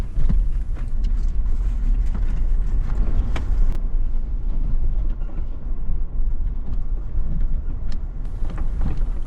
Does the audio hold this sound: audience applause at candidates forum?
no